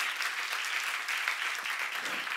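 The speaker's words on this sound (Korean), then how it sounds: "박수하세요." A church congregation claps steadily through a Korean seminar on 1 John chapter 4, with dense, even applause at moderate distance and no voices over it.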